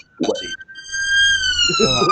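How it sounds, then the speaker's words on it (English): A vehicle siren outside in a town wails as a steady rising and falling tone, with a person talking over its start and end. "Siren. Oh my God, they're coming for us."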